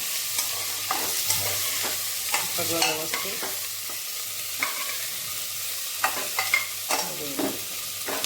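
Chopped onion and tomato fry in an open pressure cooker as the base for brinjal and potato bhaji. A steady sizzle runs underneath while a spoon scrapes and stirs in repeated strokes, and a voice speaks briefly.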